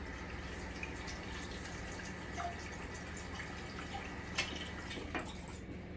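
Tap water runs steadily from a faucet while a small knife is washed, a constant close hiss with a few faint drips and clinks over it.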